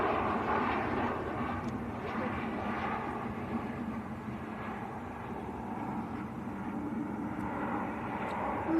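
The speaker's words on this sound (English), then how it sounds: "That is Ryanair from Alicante," A Ryanair Boeing 737-800 arriving from Alicante at Manchester Airport gives a steady, moderately distant jet roar that holds evenly throughout, with no voices.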